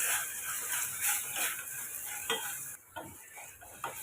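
Ingredients sautéed in a pan for ghee rice: a soft, steady hiss with a few scattered scrapes and taps of the spoon, quiet and close.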